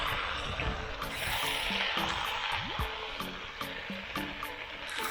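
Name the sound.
stirring meat stew with a wooden ladle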